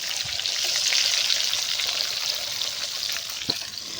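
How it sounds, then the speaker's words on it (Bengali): A big tilapia fish fries in hot oil, giving a steady, close sizzle and crackle throughout with no talking. "বন্ধুরা হালকা হালকা তেল উঠোই দিই গা দিয়ে, যেন মাছটা ভালো ভাজা হয়।"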